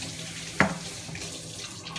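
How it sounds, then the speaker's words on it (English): Water from a tap splashes into a sausage stuffer during summer sausage making, a sudden gush starting partway through and then running steadily with a hollow, filling sound. "Put a little bit of water in it."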